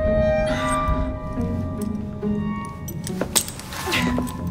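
Keys jangle and clink in Assassin's Creed Syndicate, a metallic rattle running through the scene over steady background game ambience, close and moderately loud.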